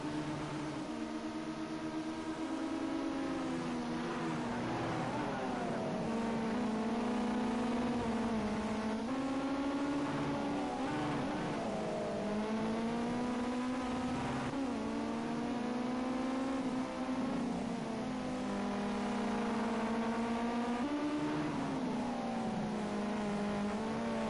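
Ginetta Junior race cars scream around the Long Beach circuit in a sustained, close engine howl that rises and falls through gear changes and braking, without break.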